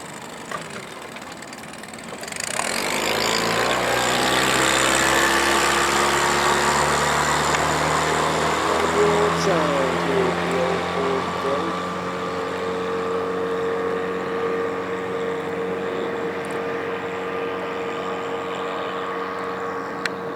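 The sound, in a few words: Yamaha 15 hp four-stroke outboard motor running at full power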